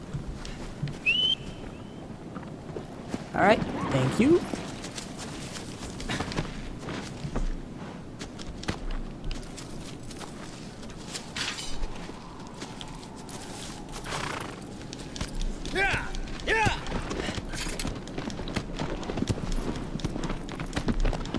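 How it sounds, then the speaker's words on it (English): Steady clip-clop of horse hooves in the video game Shadow of the Colossus plays throughout, with occasional whistles and ambient game sounds; a voice briefly speaks a few words. "horse shows up from back wherever she left us"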